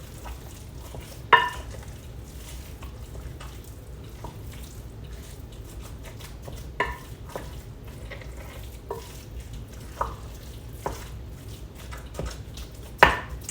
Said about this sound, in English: our meat's cooking kind of slow, so we're just going to let that go